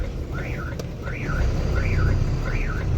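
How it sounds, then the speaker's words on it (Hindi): A vehicle approaching head-on along a road, heard from inside a moving truck, with the cab's engine drone underneath and a repeating warbling horn or siren tone sounding four times in a steady rhythm. "आगे से गाड़ी आ रही है,"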